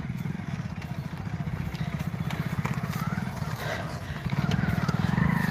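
A motorcycle ridden along a village road in Muzaffarpur, Bihar, being used to carry paddy, its engine chugging steadily up close with a fairly constant rhythm that gets louder toward the end, amid ambient outdoor noise.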